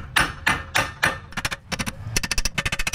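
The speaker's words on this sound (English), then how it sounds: "I'm also gonna tap on it just on the sides with the brass hammer." Brass hammer tapping on the axle knuckle of a first-generation Toyota 4Runner solid front axle, a string of sharp metallic strikes, a few spaced heavier blows followed by quicker rapid taps, close and loud.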